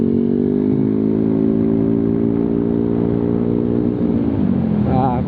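Yamaha Aerox 155 scooter with a Proliner exhaust idles and holds a steady low, rumbling drone that stays loud and close before a slight rise near the end.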